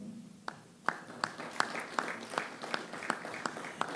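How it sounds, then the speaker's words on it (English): Audience applause at a zone meeting, heard as a quick series of sharp, evenly spaced claps that starts sparse and settles into a steady rhythm across a quiet hall. "You can clap for that too."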